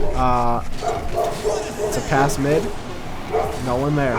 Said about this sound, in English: I guess you guys will hear my golden retriever